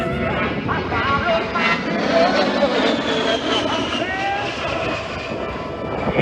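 A-10 Thunderbolt II with twin turbofan jet engines at an airshow, a steady loud roar with whining tones and shifting pitch as it passes, with people talking underneath throughout.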